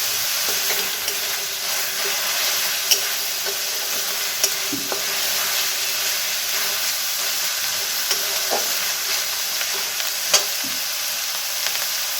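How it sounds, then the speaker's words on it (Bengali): Onion stirred and frying in oil for green jackfruit kofta, a steady close sizzle with occasional sharp scrapes of a spoon against the pan, no voices. "পেঁয়াজটাকে ভালো করে নাড়তে হবে যতক্ষণ না তেল বেরিয়ে আসছে।"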